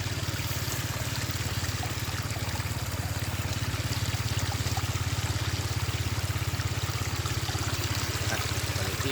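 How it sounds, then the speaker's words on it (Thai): Water flows steadily down a channel through a buried PVC pipe in a rice field, a constant rushing, gurgling wash with a low steady rumble, alone and uninterrupted. "ทางน้ำไหลลงครับ"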